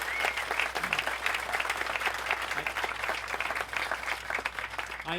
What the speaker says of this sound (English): can you give Commissioner Gator and Commissioner Johnson a round of applause?